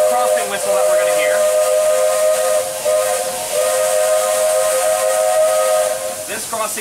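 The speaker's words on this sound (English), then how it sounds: "This is the final crossing whistle that we're going to hear." A Disney Magic Kingdom steam train sounds its crossing whistle for pedestrians, a loud, steady multi-tone blast held for several seconds with steam hiss underneath and a brief dip before it resumes.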